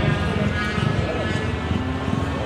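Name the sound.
motorcycle engines running all around at a bike meet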